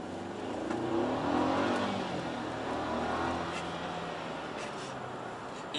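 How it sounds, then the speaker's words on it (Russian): A Mercedes GLC 250 car-share SUV accelerates from a standstill, its engine revving up steadily and holding a strong drone, heard from inside the car with no talk. "Сейчас давайте попробуем с места взять разгон, если вы не против."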